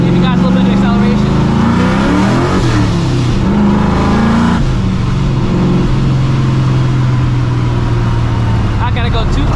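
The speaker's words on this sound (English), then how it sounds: "Give you guys a little bit of acceleration." A 1999-2004 Ford Mustang GT with performance mods accelerates hard, its V8 revving loudly and rising in pitch before shifting to a steady, droning pull, heard close up throughout.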